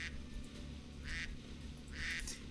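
Game ducks from Wildlife Park 2 give a few quacks, one brief call early and two fuller ones later, heard over a constant low background drone without speech.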